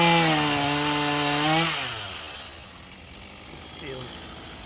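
A chainsaw cutting into a tree, with a hedge trimmer also in use nearby: a loud, buzzing engine whine holds steady, then sags and winds down after about two seconds, leaving fainter rough noise.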